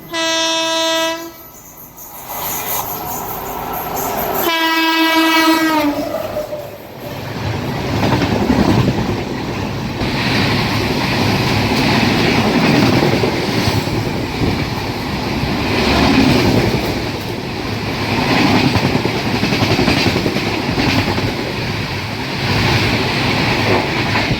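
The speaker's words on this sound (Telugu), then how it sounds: "ఏదైనా బండి వస్తే క్రాసింగ్ ఆగాల్సిందే. ఇలాగా వచ్చేస్తుంది చూడండి సూపర్ ఫాస్ట్గా." A train horn blasts twice, then a superfast train hauled by a WAP-7 electric locomotive roars past a level crossing up close, a loud sustained rumble and rush of wheels that continues without letup.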